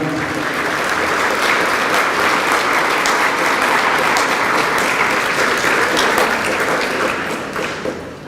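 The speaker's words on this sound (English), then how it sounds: "I think that was worth a second round of applause" Sustained applause from a large crowd, steady and loud throughout, tapering slightly at the very end.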